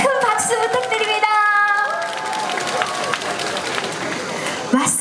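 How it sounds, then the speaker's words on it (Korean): Crowd at an outdoor K-culture expo in Cheonan applauding and cheering, with children's shouts and chatter over the clapping, plus a brief tonal melody sounding near the start. "여러분 큰 박수 부탁드립니다."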